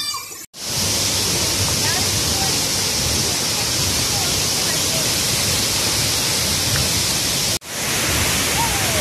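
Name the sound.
waterfall at Pipin Waterfalls, Lake Sebu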